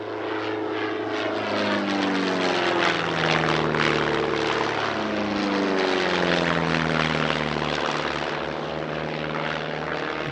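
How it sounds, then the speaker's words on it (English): Cap-10 aerobatic propeller plane flying at an airshow, a loud droning engine with a sweeping Doppler pitch shift as it passes overhead, sustained and close. "The Cap-10 is a very popular aerobatic machine."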